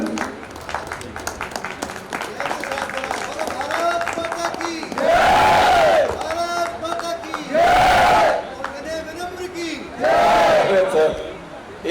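A crowd at a patriotic poetry recital claps and cheers for the poet in three loud bursts of applause and shouting, with slogan-like voices and livelier crowd chatter between them.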